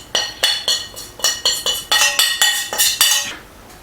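Japanese curry roux being moved into the pot, with about a dozen sharp metallic clinks of utensil against cookware in a quick regular rhythm, loud and close, ringing briefly after each strike.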